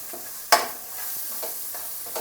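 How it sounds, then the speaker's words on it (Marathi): A spoon stirs rajma masala with red chilli powder and coriander powder in a pan over a low flame. One sharp scrape stands out near the start, followed by several softer stirring strokes over a faint sizzle. "आणि याला मिक्स करून घेऊया।"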